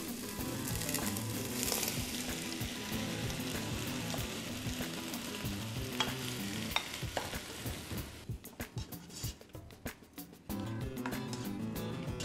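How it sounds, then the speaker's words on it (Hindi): Garlic frying with a splash of vinegar as roughly chopped tomatoes go in, a dense continuous sizzle with stirring scrapes, then the hiss thins and turns choppier near the end; no talk. "अब सिरके के डालने से लहसुन ज़्यादा फ्राई होना शुरू हो गया"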